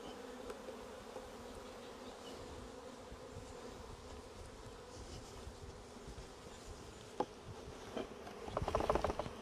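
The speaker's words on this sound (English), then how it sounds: "Shaking the bees in." Honey bees buzz softly and continuously as they are shaken into a hive during a colony merge, a faint swarming hum with a few light knocks and a slightly louder cluster of buzzing at the end.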